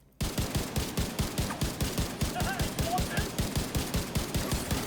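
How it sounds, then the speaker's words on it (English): Rapid, evenly paced rifle fire in a video game rattles out as one long sustained string of shots, loud and close, beginning abruptly after a brief silence. "I'm gonna kill him with my rifle."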